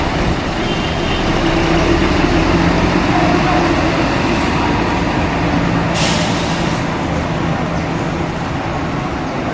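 Loud, dense idling and rumbling of intercity buses at a busy bus terminal, with a brief hiss of an air brake release partway through over constant traffic noise.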